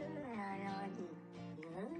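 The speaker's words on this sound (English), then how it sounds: "he's taken some talking cat samples and turned it into a song." Cat meows and chatter cut into a song mix on a radio show, a sung, melodic mewing voice weaving up and down with tonal slides, loud and continuous.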